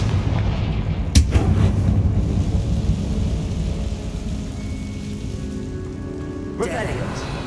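A Confringo blasting spell goes off in Hogwarts Legacy on Xbox Series X, a sharp explosive crack followed by a heavy rumbling blast. A second burst comes near the end, over dense game noise and speech.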